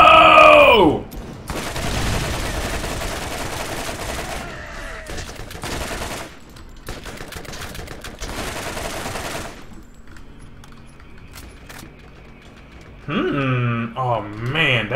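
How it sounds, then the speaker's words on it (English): Rapid bursts of gunfire from the shooter game Borderlands, loud automatic volleys broken by short gaps, mixed with other game sound effects and a rising electronic tone near the end. "Somebody's still shooting me."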